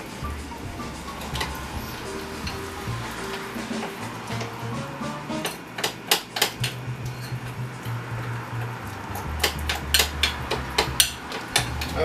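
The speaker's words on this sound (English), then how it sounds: "Alright, and then you just keep stirring." Tempura batter made with beer and ice being stirred in a bowl: a low steady background hum, then repeated close clinking and knocking strokes in an uneven rhythm.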